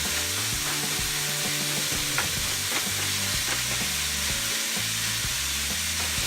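Meat frying and being stirred in a pan for Irish stew, a steady sizzle with scraping stir strokes and clinks running throughout, loud and close with no talk.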